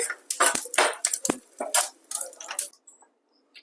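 Fried ingredients for a nalleru stem chutney are scraped from a pan into a bowl, a run of close clinks and scrapes of a spoon against metal that stops, leaving near silence.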